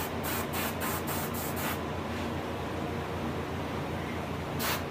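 A spray gun coats a hybrid striped bass taxidermy mount with paint, giving a steady close hiss broken at first by several quick on-off bursts, then one continuous spray with a final short burst.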